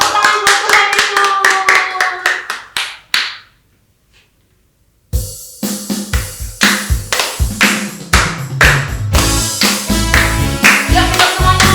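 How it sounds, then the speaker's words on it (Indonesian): Children clapping hands in praise of Jesus at an online kids' church service, loud sharp repeated claps in bursts that pause briefly into near silence, then resume in a dense rhythmic clatter with music. "Yuk kita tepuk tangan buat Tuhan Yesus."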